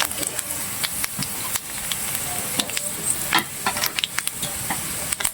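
Cumin seeds crackle and sizzle in hot oil for a lentil dish, a steady close hiss broken by sharp pops and the scrape of a stirring spoon.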